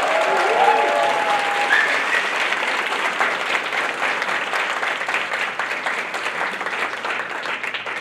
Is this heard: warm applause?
yes